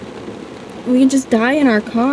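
Rain falling steadily around a car, a constant soft patter under loud conversation that takes over midway.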